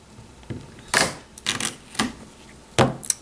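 Duct tape being handled and cut into a strip on a cutting board: a series of sharp crackling rips and snips in quick irregular bursts, close and alone.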